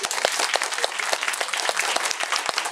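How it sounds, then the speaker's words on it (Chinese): An audience at a gathering honouring local city councilors breaks into dense, steady applause, many hands clapping together at a lively even rate, loud and close throughout. "那我们给议员一个掌声"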